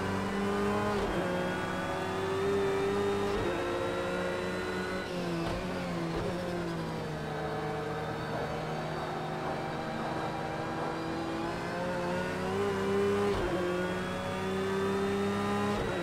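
Porsche 911 GT3 R race car at the Nürburgring Nordschleife in Project Cars 2: a loud, continuous engine roar that rises and falls through repeated gear changes and revving for the whole stretch.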